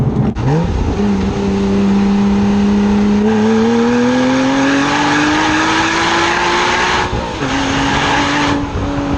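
A Porsche Boxster Spyder engine revs up strongly nearby, its pitch rising smoothly through the gears with a loud, refined howl and brief dips between shifts.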